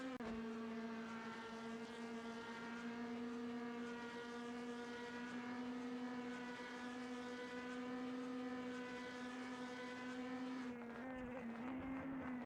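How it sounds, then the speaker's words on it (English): Race cars in the DTM Classics sim racing game sweep past around a circuit, a loud, steady engine drone with bright harmonics that holds for about ten seconds, then dips and shifts near the end. "watching the cars speed by"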